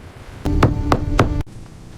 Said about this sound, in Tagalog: Sino ba yung kumakatok ngayon?